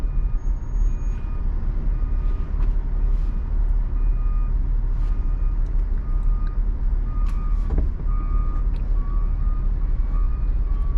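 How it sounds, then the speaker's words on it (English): Street traffic in Inwood, New York: a steady rumble of cars and trucks heard from inside a vehicle, with reversing beeps and brief clanks and squeals over it, continuous with no talk. "A little bit of traffic here"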